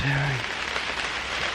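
Steady rain patters on surfaces in a brief hiss, with a short voice at the start.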